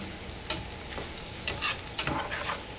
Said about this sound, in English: Let that saute a little bit.